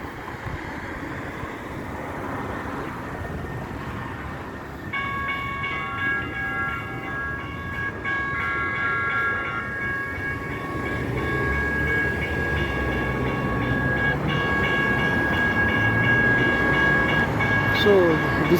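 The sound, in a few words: train passing through a local railway station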